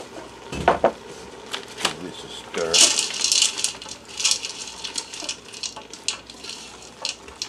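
Pot of scallop fried rice with ramen noodles being stirred, giving scattered metallic scrapes and clinks of utensil against pot, with a voice talking over the clatter.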